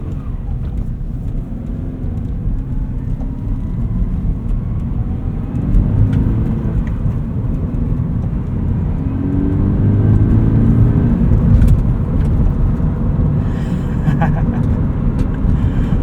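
Interior drive in a 2014 first-generation Subaru BRZ, with a steady engine drone and road rumble that swells with acceleration midway before settling into a continuous cruising hum.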